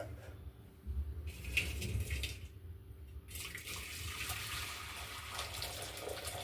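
Water poured off cooked toor dal into a vessel while a plate holds the lentils back, heard as close splashing bursts of running water that start and stop, then a longer steady trickle.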